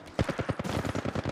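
Rapid automatic gunfire in Apex Legends Mobile rattles off in a tight burst of about a dozen loud, close shots, evenly spaced and clipped.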